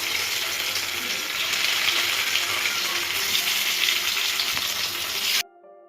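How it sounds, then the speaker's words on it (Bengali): Soya chunks drop into hot oil and sizzle loudly and continuously for several seconds before the frying cuts off abruptly near the end, with no one speaking. "এখন আমি এই সয়া দিয়ে দেবো এগুলো একটু গোল্ডেন গোল্ডেন করে ভেজে নেব"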